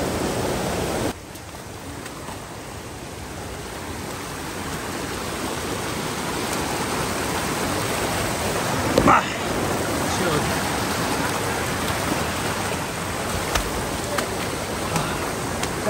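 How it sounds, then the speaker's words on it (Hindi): Rushing waterfall in a Nagaland jungle at night, a steady broadband roar of falling water filling the whole clip, loud and close, with brief bumps and splashes as it is crossed. "हमें रात के वाटरफॉल क्रॉस करके जाना पड़ेगा इधर।"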